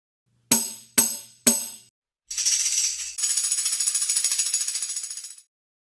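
Three sharp tambourine strikes ring out one after another, then a long bright jingling shake that rattles on before fading away.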